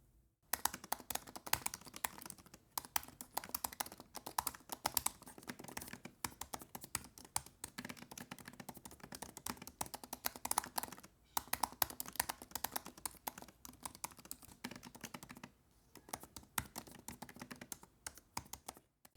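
Typing on a laptop keyboard fitted with a silicone membrane under the keys gives soft, muted clicks in a steady, fast stream. Brief pauses break the run, and the typing is close and fairly quiet.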